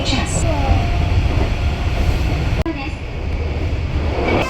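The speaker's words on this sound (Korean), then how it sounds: "지하철이 신기해요." Subway train riding in Osaka, a steady loud rumble and rattle of the carriage with clickety track noise throughout, one sharp break midway, heard from inside the car.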